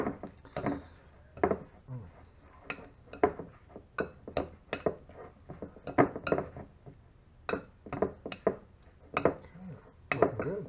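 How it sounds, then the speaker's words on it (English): Beef and egg mixture stirred in a bowl for stuffed shells, giving a steady run of close, sharp clinks and scrapes of utensil against the dish, repeating irregularly throughout. "So we'll stir up our beef mixture"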